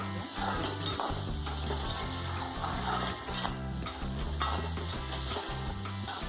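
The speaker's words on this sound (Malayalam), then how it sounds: "2-3 മിനിറ്റ് ഇങ്ങനെ നല്ലപോലെ ഇളക്കി കൊടുക്കാം." Spiced potatoes stirred in a frying pan with chili powder, salt, turmeric and garam masala, giving a steady scraping, rattling stir over continuous close sizzle with no talking.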